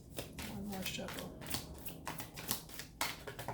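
A deck of tarot cards is shuffled by hand in a quiet room, giving a steady run of crisp riffling and slapping card sounds with short sharp snaps, alone without talk.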